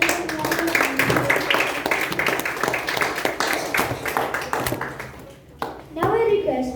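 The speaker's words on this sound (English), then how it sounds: "Please give a huge round of applause to our general evaluator." An audience at an evaluation session of a speaking club meeting claps for the general evaluator, a sustained round of dense applause that slowly fades before a voice begins speaking.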